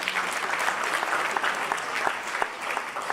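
Audience applause at an award event, a steady dense clapping wash of many hands filling the whole stretch without pause, loud and sustained.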